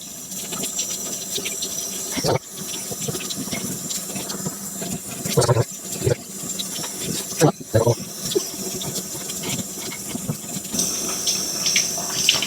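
Tap water runs steadily while something is rinsed and worked under the stream to soften its skin, with intermittent splashes and handling knocks throughout.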